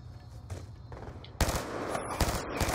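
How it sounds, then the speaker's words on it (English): Gunfire in Call of Duty: Black Ops 2 Team Deathmatch, faint scattered shots at first, then a loud burst of rapid automatic fire in the final second. "I just spawned and there's already a guy shooting me."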